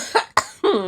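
A person lets out three quick, close coughs in a row, each a short, harsh burst with a brief catch of breath between them.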